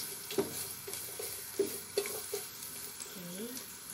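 Garlic frying in a little oil, a close sizzle broken by sharp scraping stirs and clinks of a utensil against the pan, with a voice speaking briefly.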